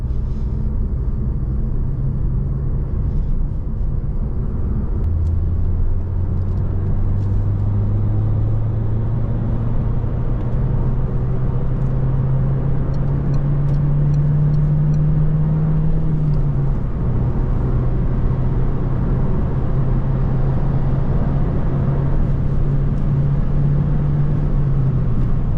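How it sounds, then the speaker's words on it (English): A 2010 Peugeot RCZ with a 1.6 THP 156 hp engine pulls hard in third gear on a highway, its steady engine drone climbing in pitch and then holding under constant road and wind rumble, heard from inside the cabin. "Let's head to the highway and do a pull in 3rd gear."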